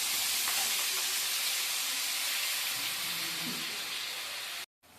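Masala spices sizzling and frying in hot oil in a pan for a fish curry, a steady loud hiss that runs on alone and then breaks off abruptly near the end.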